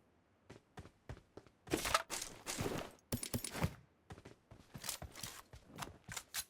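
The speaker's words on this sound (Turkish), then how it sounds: "Aşağıdan sıkan var." Bursts of PUBG Mobile gunfire, sharp repeated shots in uneven volleys, some close and loud, others lighter and spaced out, with no talking.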